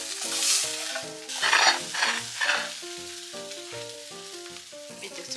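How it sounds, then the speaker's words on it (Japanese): Oaxaca cheese melts in a pan for cheese tacos, crisping into chicharrón de queso, with a steady crackling sizzle and some stirring or scraping over a bed of background music. "ケソオアハカはこんな風に溶けます"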